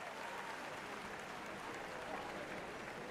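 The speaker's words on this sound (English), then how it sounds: "The entire crowd cheers as you and Samwise share a happy dance of victory." A festival crowd cheers and applauds a winning pumpkin, a continuous wash of clapping that holds steady throughout, soft and somewhat distant.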